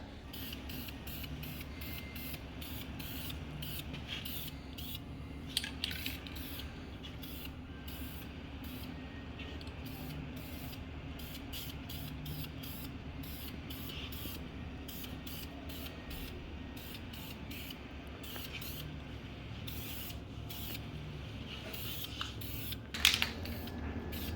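Spray primer hissing onto BBS RS771 wheels in a continuous even stream, with faint mechanical clicks and a couple of brief knocks, no talking.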